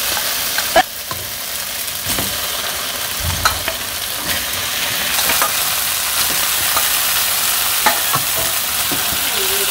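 Chicken pieces sear with spice paste in a pan over a village-style fire, a dense continuous sizzle with occasional spoon knocks and scraping stirs, close up and without any talking.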